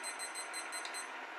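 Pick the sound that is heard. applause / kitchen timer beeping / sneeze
kitchen timer beeping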